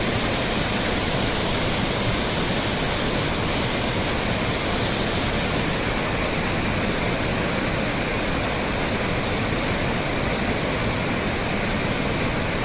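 The Tad Lao waterfall in Salavan province roars as a steady, dense wash of falling water, loud and unchanging throughout with no pauses and no voices.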